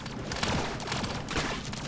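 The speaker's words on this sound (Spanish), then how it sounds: "Vamos a dar un par de disparos más" Gunfire in the Relic Hunters Zero video game, rapid bursts of shots crackling in quick succession across the stretch, fairly loud and close with no talking over it.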